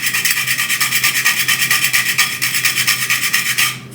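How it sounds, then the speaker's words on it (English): Whole nutmeg scraped back and forth on a small handheld grater in a home kitchen, a quick, even rhythm of raspy strokes, close and loud, tapering off at the end. "So I'm gonna grate a little bit of nutmeg in there."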